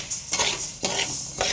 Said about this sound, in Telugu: చూడండి ఫ్రెండ్స్, చిటాపట అని సౌండ్ వస్తున్నాయి